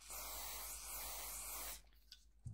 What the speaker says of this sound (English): A light spray for the spring.